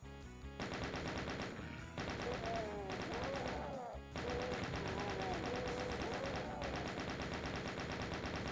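Rapid enemy gunfire in the 1993 PC shooter Doom on Ultra Violence, dense bursts repeating over a continuous bed of game music and effects, with brief gaps and a near, loud presence throughout.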